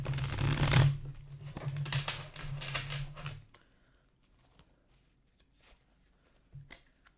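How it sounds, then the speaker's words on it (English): A deck of cards is riffled loudly with a rapid fluttering burst, then bridged and tapped, followed by near silence and a final brief riffle. "So I'm going to go ahead and shuffle the deck now"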